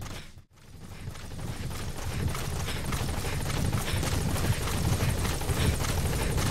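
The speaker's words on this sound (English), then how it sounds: "We arrived at the helicopter." A helicopter in the Metal Gear Solid V video game drones steadily with a loud, continuous rotor chop that builds after a brief dip at the start, with no voices over it.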